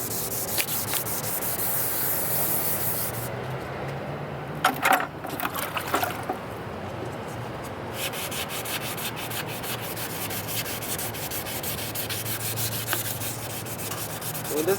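Continuous hand sanding of a faded plastic car headlight lens with sandpaper, a rough scratchy rubbing in steady back-and-forth strokes, close up, with a brief pause partway through.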